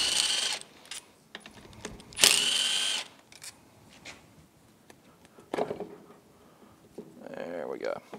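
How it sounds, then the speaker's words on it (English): A power tool whirs in short bursts while the oil pump is taken off a Yamaha F225 outboard engine, with clanks and scraping of parts between the bursts and a voice talking over it. "let's go ahead and get the oil pump off"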